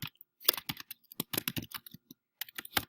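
Brisk keyboard typing on a computer while writing a document outline, a run of close, crisp key clicks in uneven bursts with short pauses between words, heard alone.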